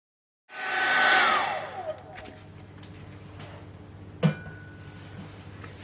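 A hair dryer switches on and blows loudly and close while speed-drying a watercolour painting, then drops to a steady lower whir, with a single knock partway through.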